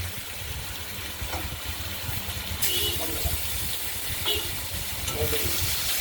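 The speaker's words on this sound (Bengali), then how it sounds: "এবার আলুগুলো ভেজে নেব" Potato pieces hiss and sizzle as they fry in hot oil for a Katla fish curry, a steady close frying noise that swells after a stir, with someone speaking faintly in the background.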